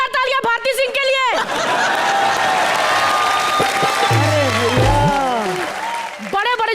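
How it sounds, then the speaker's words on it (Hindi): A studio audience on a comedy show breaks into loud, sustained applause mixed with some laughter, and a voice speaks at the start and end of the clapping. "एक बार जोरदार तालियां भारती सिंह के लिए।"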